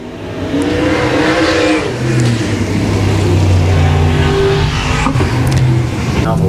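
Dirt track race car engines roar and rev loudly at Boothill Speedway, a continuous throaty drone rising and falling as the cars get underway, with an announcer talking over it.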